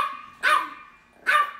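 A French Bulldog puppy gives two sharp, close barks about a second apart, with quiet pauses around them.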